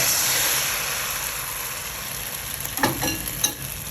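Beaten egg poured into hot oil that has just fried garlic and fish, giving a steady close sizzle with a few sharper crackles and spatters near the end.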